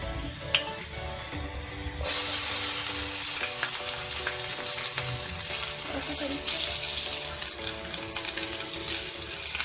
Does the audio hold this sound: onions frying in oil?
yes